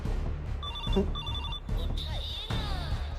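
A telephone rings in repeated electronic trills, with a person talking over it.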